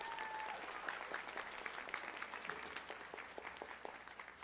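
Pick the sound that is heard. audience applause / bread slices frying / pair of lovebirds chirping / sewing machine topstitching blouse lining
audience applause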